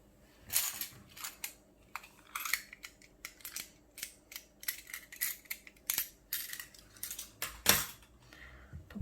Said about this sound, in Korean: 이 상태에서 실을 여유있게 잘라주세요.